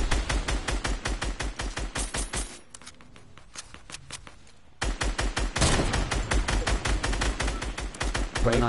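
Rapid bursts of gunfire in Fortnite Battle Royale, loud dense volleys that stop briefly mid-clip before resuming just as heavily, with quieter game noise in the gap.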